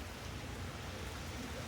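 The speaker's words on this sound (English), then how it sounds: "Raining." Rain falls outside over a boatyard where a boat sits waiting for paint. It makes a faint, steady hiss with no breaks and no voices.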